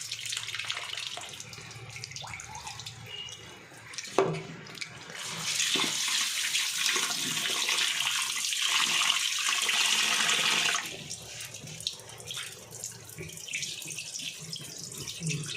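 Tap water runs while pearl millet grains are washed, a strong steady rush lasting several seconds in the middle, framed by quieter splashing and handling sounds close by, with no talking.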